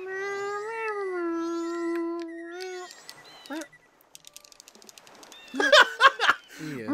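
A person imitates a cat, drawing out several wavering meows in a row, loud and close. Brief clicks and quieter sounds follow, then laughter-like bursts near the end.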